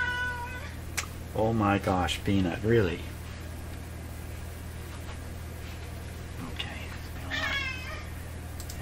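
A pet cat meows repeatedly near a workbench where a shortwave tube radio is being repaired, giving several close, loud cries early on and another later, while someone speaks to it and a steady low hum continues beneath.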